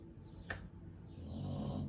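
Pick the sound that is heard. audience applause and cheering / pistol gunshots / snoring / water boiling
snoring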